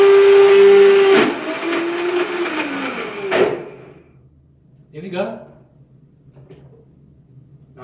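A DNA commercial blender churns nut butter with a loud, high motor roar for about a second. The roar cuts to a lower labored churn, then trails off into a few shorter, quieter bursts with pauses between.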